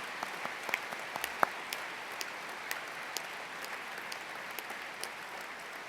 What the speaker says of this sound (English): join me in thanking them with another huge round of applause